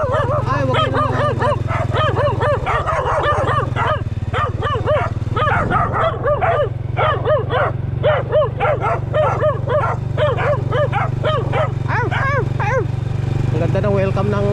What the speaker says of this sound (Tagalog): Ang ganda ng welcome ng aso sa atin dito ah.